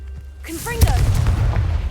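A single deep boom from the Confringo fire spell in the video game Hogwarts Legacy, erupting right after a shouted spell name and followed by a rumbling tail.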